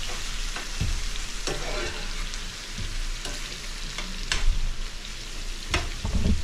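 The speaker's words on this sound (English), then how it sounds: "I think we're ready for the crawfish now, so we're gonna go ahead and dump that in. Get it stirred in." Crawfish tails stirred into a sizzling pan of butter for crawfish pasta, steady loud frying hiss with repeated scraping stirs and clatter of a utensil against the pan, no talking.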